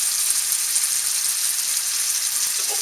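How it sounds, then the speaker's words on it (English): Ground meat browns in a hot pan with a steady, bright sizzle that stays even and close throughout, with no talking over it. "now while the meat is browning"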